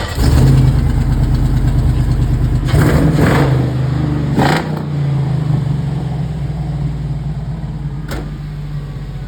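A Porsche fitted with a 6.2-litre LS V8 on open headers with no exhaust idles loud and close, a deep rumbling drone with a couple of short blips of throttle partway through, then settling back to a steady idle.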